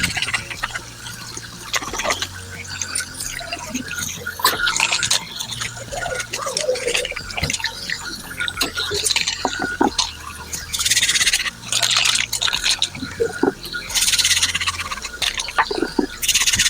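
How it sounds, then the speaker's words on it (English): Nail tools being washed with soap under a running tap make irregular splashing and trickling water with light scrapes and clinks of metal, fairly close and continuous. "I like to just wash these with soap to get out any grease out of them."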